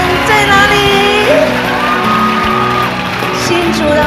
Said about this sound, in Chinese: 尖叫声在哪里？